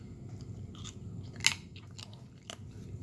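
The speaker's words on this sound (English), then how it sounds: "Maybe I should eat a piece of this fucking gum." A piece of bubble gum being chewed close up, with soft wet bites and a few sharper crunchy clicks spread irregularly over a few seconds.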